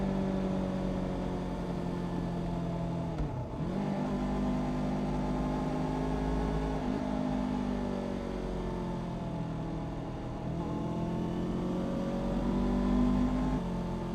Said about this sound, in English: hit a little downshift in the third here